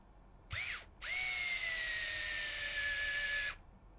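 A power screwdriver drives 10 mm screws through plastic parts while assembling an HPI Venture SBK RC car kit, with two bursts: a short spin, then a longer steady whine that drops slightly in pitch as the screw seats.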